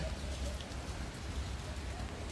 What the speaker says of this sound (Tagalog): Binidyuhan ko na ang ulan kasi ang sarap ng ulan.